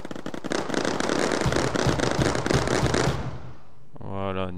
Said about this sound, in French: ils ont à moitié explosé sur les mines